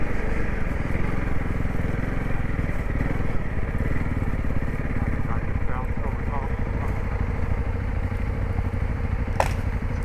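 A Honda Rally motorcycle rides along with its engine droning steadily and loudly throughout, rising and falling slightly with the throttle, while voices are present under the engine noise.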